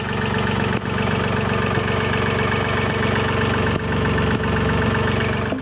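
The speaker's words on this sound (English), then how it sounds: "Just done an engine test run, ran the motor at 2000 RPM under a bit of load" A small yacht's engine runs continuously at 2000 RPM under light load with a low, rumbling mechanical drone and faint rhythmic knocking, loud and close throughout.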